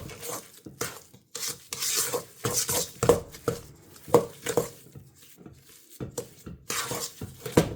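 Thumbprint cookie mixture being stirred in a bowl, with repeated scraping and clinking of a utensil against the dish in an uneven rhythm, close and fairly quiet, with no talking.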